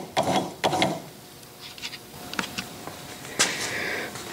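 Metal change gears on an Atlas lathe clink and ratchet as they are meshed and snugged up, with a handful of close, distinct clicks and clatters over a faint background hum.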